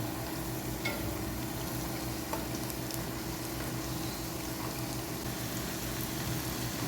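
Potato sticks frying in hot oil give a steady, even sizzle with faint crackles and pops, close and continuous throughout without talk.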